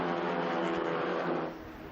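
Clio Cup race cars roaring through turn 1 at the Valencia circuit, a dense, loud engine drone that holds steady and then fades slightly as the cars pass.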